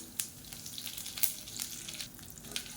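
Spices, dried red chillies and curry leaves sizzle and crackle in hot oil in a pan while frying, a steady close crackle with sharp pops scattered throughout and no talking.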